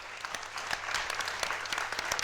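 A crowd at a speedrun festival applauds with continuous, moderately faint clapping throughout, with scattered sharper claps standing out.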